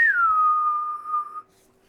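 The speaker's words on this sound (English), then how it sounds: "I can do a regular whistle." One person whistles a single sustained tone that starts slightly higher, settles and holds steady for over a second before stopping, close and clear with no other sound.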